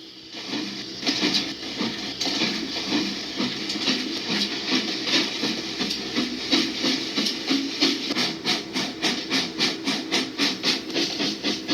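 Steam locomotive in a railroad setting, hissing with a broad steady wash of steam, then breaking into rapid rhythmic chuffs that grow more regular toward the end, loud and close with no talk.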